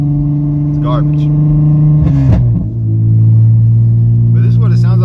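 Steady low exhaust drone from a 2009 Honda Accord V6 coupe with a straight-pipe exhaust, heard from inside the cabin near light throttle, loud and continuous, with someone talking over it in places.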